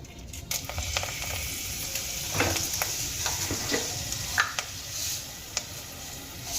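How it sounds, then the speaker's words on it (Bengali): Dried red chillies, broken in two, sizzle steadily in hot oil as a tempering for a Bengali raw-tomato fish curry, a close, continuous crackling hiss with a few sharper pops and no talk. "এবার এই তেলের মধ্যে আমি ফোড়নে দিয়ে দেব দুটো টুকরো করে নেওয়া শুকনো লঙ্কা"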